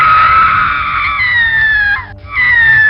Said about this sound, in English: Then, it started. Screaming.